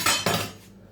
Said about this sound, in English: what I'm going to do is cut along the meat fiber